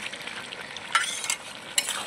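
Meat sizzles in a pan with spices, village-style outdoor cooking, a steady soft hiss broken by a few sharp scraping stirs of the spoon.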